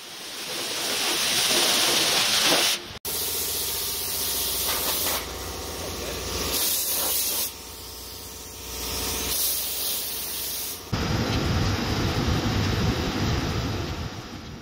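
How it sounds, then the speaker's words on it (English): A powder coat spray gun applies powder to preheated steel off-road bumper parts, producing a loud, continuous airy hiss that shifts in intensity and briefly breaks off several times. "Here you can see Caleb applying powder coat"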